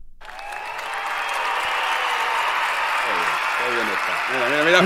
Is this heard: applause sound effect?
yes